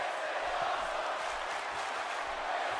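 A crowd chanting in the wrestling video game WWE 2K18 at an ECW One Night Stand event, a broad roar of many voices held steady and loud across the moment without breaks.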